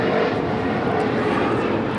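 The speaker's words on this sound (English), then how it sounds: "It's the Turkish Airlines Dreamliner. Just the go-round." Turkish Airlines Boeing 787 Dreamliner on a go-around at LAX, a loud, steady broadband engine roar filling the whole stretch without a break.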